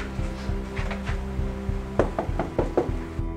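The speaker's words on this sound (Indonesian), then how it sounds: "Ini kita ketok pintu berapa kali" Several sharp knocks rap on the door of a rented house on a rainy day, coming in a quick uneven series over a steady low musical hum.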